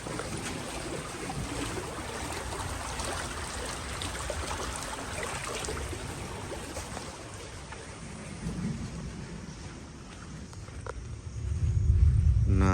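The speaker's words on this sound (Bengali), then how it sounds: "ঝড়টা একটু কমলো বৃষ্টিটা না" Steady rain pours down after a storm, a dense even wash of noise with low rumbling that swells again near the end, with no voices.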